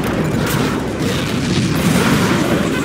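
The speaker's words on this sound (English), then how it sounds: "Bombardment." Artillery bombardment in Command & Conquer Generals Zero Hour, a dense, continuous rumble of overlapping booming explosions, loud and unbroken throughout.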